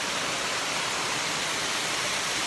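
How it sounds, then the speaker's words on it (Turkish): An artificial waterfall in the village of Küçüklü, Gönen, Balıkesir pours in a steady, loud, broadband rush of falling water, continuous and close, with no voices. "Çok güzel bir yapay şelale var arkamda."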